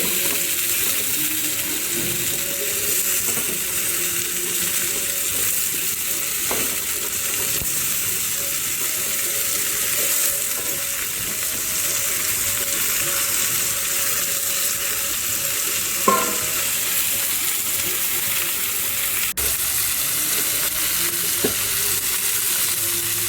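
Vegetable stalks and ridge gourd frying and releasing water in a pan, a loud continuous wet sizzle with occasional stirring scrapes and a clink near the middle.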